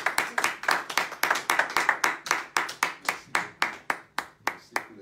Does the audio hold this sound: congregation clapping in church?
yes